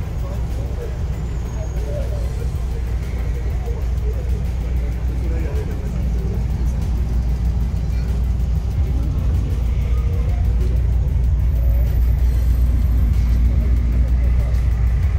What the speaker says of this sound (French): Eh bien, les voitures continuent à s'avancer.